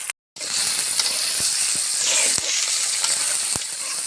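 Pieces of gourd are tipped into frying chicken in a pan, starting a loud, steady hiss of sizzling oil after a brief silence, broken by a few sharp clicks of stirring.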